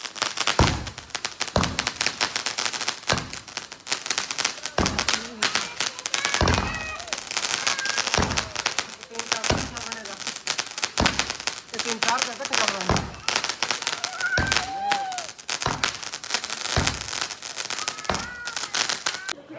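A 24-shot Diwali firecracker cake fires outdoors in a rhythmic string of loud, sharp bangs about a second apart. Voices sound faintly between the blasts.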